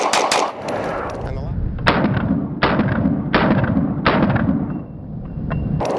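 A Nighthawk Custom TRS Comp 9mm pistol firing 124 grain rounds outdoors: sharp, loud close shots with short gaps between them, each followed by a brief ring.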